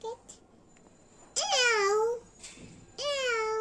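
A child imitates a cat's meow, producing two clear, close, drawn-out meows with falling pitch, following brief adult speech.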